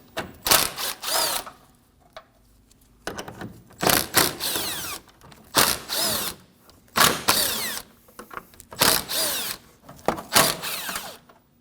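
A power tool removes 10mm bolts along the upper grille of a 2016-2022 Honda Pilot, sounding as repeated short whirring bursts of about a second each, separated by quiet gaps and light handling clicks.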